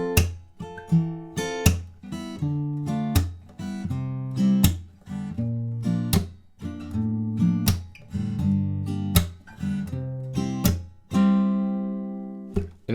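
Acoustic guitar chords struck in a steady rhythm, each strum ringing briefly before the next, repeating the short verse progression of a song with no voices.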